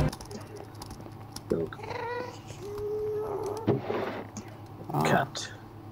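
A cat meows in the Minecraft video game, a few short meows mixed with game sounds while players talk over them.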